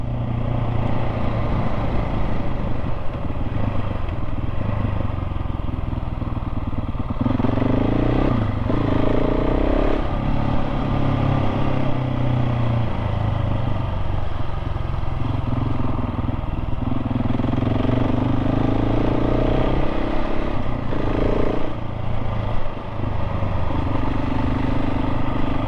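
A KTM 690 SMC-R supermoto motorcycle ridden on a bumpy, gravel-strewn road, its single-cylinder engine droning steadily and loudly throughout, with engine pitch rising and falling as the rider rolls the throttle on and off.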